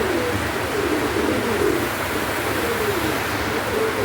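Pigeons kept for sale coo in low, repeated murmurs beneath a constant loud hiss of background noise, with no speech.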